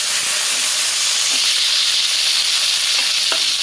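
Diced onion dropped into a hot pan sizzles in a loud, steady hiss with faint crackles and stirring scrapes, heard up close and uninterrupted.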